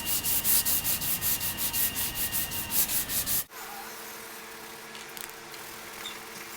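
Hand sanding of 3M finishing glaze on a car body panel, cross sanding to feather an edge: a steady run of rhythmic rasping strokes, close and fairly loud, that stops abruptly about halfway, leaving a quiet room hum.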